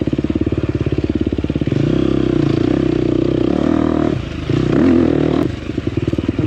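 A 2024 KTM 250XCF dirt bike engine pulses and revs while being ridden through technical terrain, close and loud, with brief throttle changes and a dip before picking up again.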